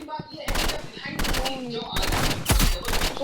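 Gunfire in the video game Rivals, with burst rifle and shotgun shots, rings out in loud, rapid volleys and sharp blasts, close and dense, with a voice talking in the mix.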